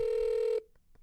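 A single steady telephone dial tone sounds when placing a call, then cuts off, followed by a couple of faint clicks.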